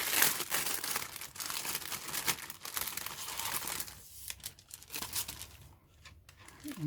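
Plastic bag crinkling and rustling as a 1/48 scale Republic P-43 Lancer model kit is unpacked, a continuous close crackle with louder bursts, easing off briefly near the end.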